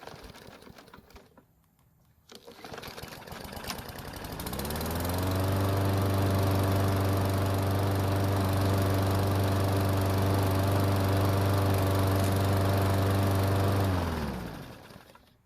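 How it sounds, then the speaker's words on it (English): A Craftsman lawn mower's small engine starts up and settles into a steady, loud drone that runs continuously for several seconds while warming up before cutting off near the end. "I have to run the engine a bit more to warm it up"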